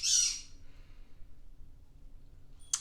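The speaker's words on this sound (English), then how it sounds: "the bird's squawking because my son's alarm is going off." A pet bird gives a loud, shrill squawk up close, followed by quiet and then a second short sharp squawk at the end, indoors with low background hum.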